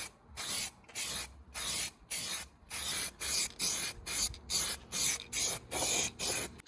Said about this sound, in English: now we're gonna prime the splitter